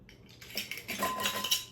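Cola cake ingredients being stirred together in a bowl, a quick run of close metallic scrapes and clinks of a utensil against the bowl.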